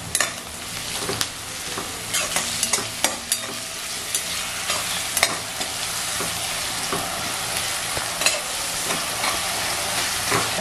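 Coriander sizzles in hot tempering oil for prawn rice, a steady close frying hiss punctuated by frequent clicks and scrapes of stirring, with no talking.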